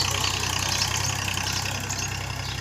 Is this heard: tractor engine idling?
yes